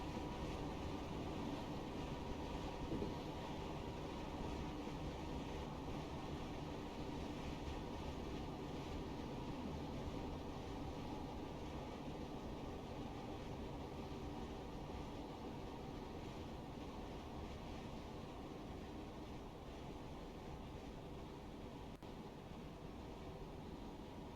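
Steady rumbling drone of a Class 317/1 electric train running from London Kings Cross in Train Simulator Classic, a continuous, even roar of wheels and motors with no talk.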